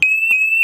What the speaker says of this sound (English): this alarm is about to go off here very soon.